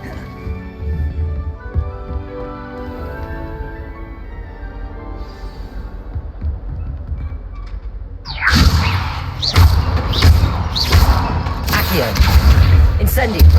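The Levioso levitation spell is cast in Hogwarts Legacy, where a quiet stretch gives way to a sudden loud burst of whooshing, thudding magic effects that keep pulsing to the end.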